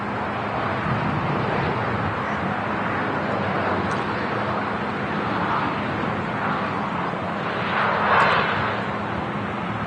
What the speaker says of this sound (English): Air Transat A321neo heading back to Toronto. Now lining up.